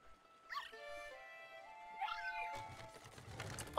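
Polterpup, the ghost dog in Luigi's Mansion 3, gives a few short yips and whimpering cries in a cartoonish game voice, followed by some scuffling and a brief louder burst at the end.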